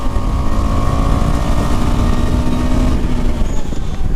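KTM 390 Adventure motorcycle riding, its engine loud and close with dense rumble and wind roar, easing off as the bike brakes toward the end.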